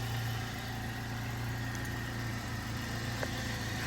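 A BMW E36 Compact's engine idles steadily with a low, even hum, close by and continuous, showing no change in pace while the car sits running during a fault check.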